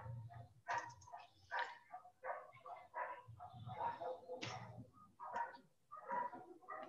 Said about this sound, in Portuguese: Tem uns cachorrinhos aqui.